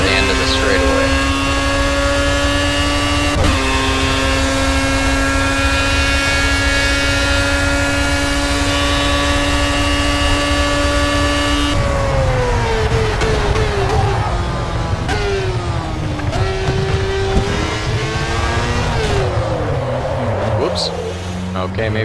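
An IndyCar engine in Project CARS racing, its loud high-pitched whine holding steady on a straight, then dropping and climbing through gear changes as the car brakes and accelerates, with a voice talking over it.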